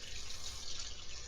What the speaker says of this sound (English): Could you hear the water running?